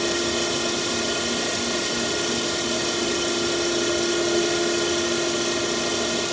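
An Okamoto EXB series 16 x 32 inch high-precision surface grinder runs with its wheel dresser moving, giving a steady, even mechanical whir and hum with fixed tonal lines held the whole time and no talk.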